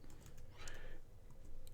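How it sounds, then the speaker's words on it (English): Typing on a computer keyboard, a steady run of soft clicks through the whole stretch, close and moderately quiet over a low background hum. "begin typing container"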